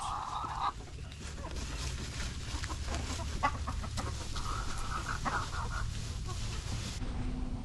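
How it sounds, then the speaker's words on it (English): Chickens out on a farm, clucking softly and steadily outdoors, with low background noise and brief bird calls running throughout. "the chickens love to get out and stretch their legs"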